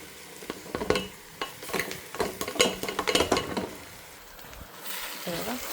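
Poha upma with turmeric, chili powder and carrot is stirred in a pan: repeated scraping spoon strokes against the metal over a light sizzle, fairly close, with no talking.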